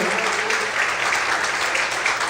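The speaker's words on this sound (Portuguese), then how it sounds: "Vamos aplaudir e exaltar a Deus nessa manhã." A church congregation applauds during a Sunday morning service, a steady dense wash of clapping held at an even level throughout.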